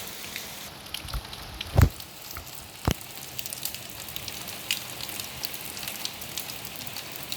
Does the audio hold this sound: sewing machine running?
no